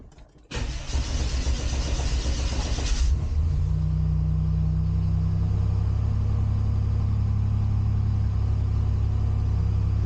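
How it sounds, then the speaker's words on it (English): A Buick Grand National starts with a short cranking whir, catches loudly, then settles into a steady, deep, close idle rumble that runs on for several seconds, with no talk over it. "Let's start the car now and let's see what we got."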